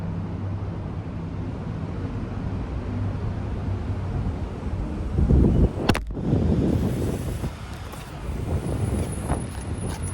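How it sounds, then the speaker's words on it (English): Wind buffeting a phone microphone outdoors in a parking ramp, a steady low rumble of gusts, broken by a sharp knock as the phone topples over, then continued muffled wind. "it is a little windy, and the wind seemed to knock over my phone"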